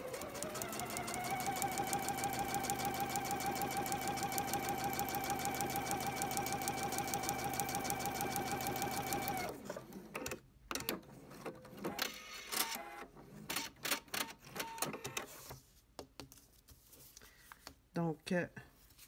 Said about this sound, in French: je vais aller coudre sur cette ligne-là